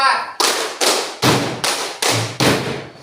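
A group of people claps in unison during a classroom concentration clapping game, with one quiet lead-in and then five loud, sharp, evenly spaced claps close by. A voice talks briefly at the start.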